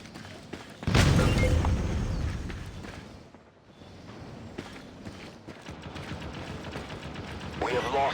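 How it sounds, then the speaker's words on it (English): A grenade blast in the shooter game Critical Strike during a team deathmatch, a loud low boom that swells and slowly fades. Game noise and a voice continue underneath. "Grenade out."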